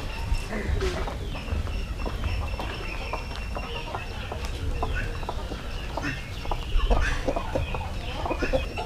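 Clucking roosters kept as fighting birds in a yard in Jaffna, with scattered calls and clucks over steady outdoor background noise and occasional voices.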